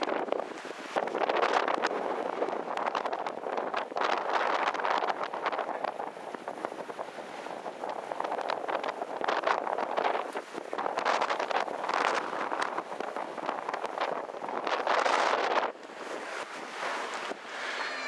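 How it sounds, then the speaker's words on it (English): Strong wind roars and buffets the microphone in continuous gusts outdoors, beside a wind turbine, loud and rough throughout, with no voices. "obviously a pretty windy day"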